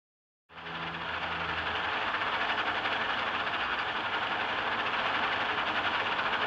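The 1948 IBM SSEC computer runs its punched paper tape readers, making a loud, continuous mechanical whirring and rattling. It starts abruptly and then holds steady with a fast, fine clatter, with no voices.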